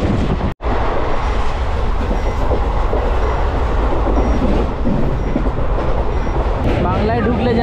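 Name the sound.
train leaving Ayodhya Dham Junction toward Varanasi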